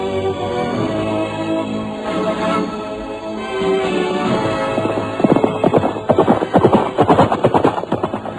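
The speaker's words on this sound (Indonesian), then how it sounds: "dan sebentar kemudian, kuda itu pun sudah berlari kencang menerobos barisan." A radio drama sound effect of a horse galloping, with hoofbeats building from a muffled approach into a loud, rapid, rhythmic clatter up close, with no voices.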